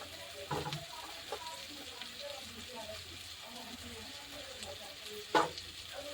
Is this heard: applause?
no